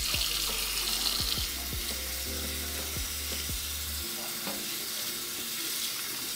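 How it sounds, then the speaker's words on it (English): A curly wig is hand washed with sulfate-free shampoo under running water, a steady close wash of splashing and trickling with squishy handling sounds. A low tone plays underneath. "I gently hand wash the curls with a sulfate-free shampoo followed by a hydrating conditioner"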